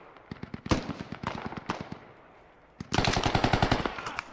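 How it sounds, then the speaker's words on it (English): AK rifle fire in the military shooter game Squad cracks out in close, sharp shots, first a quick string of single reports, then a pause, then a loud rapid burst of automatic fire. "That's AK close."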